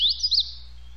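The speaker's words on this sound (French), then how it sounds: "Pour entendre le chant de l'oiseau, cliquez sur l'icône." A brief, bright bird song played from the Merlin bird identification app: quick high chirps and trills, clean and close, ending abruptly after a fraction of a second.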